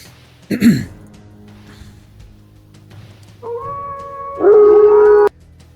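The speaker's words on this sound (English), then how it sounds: "again you hear the howling" Wolves howling, a short sharp yelp-like cry early on, then two drawn-out wavering howls that rise and hold loud before cutting off; no talking.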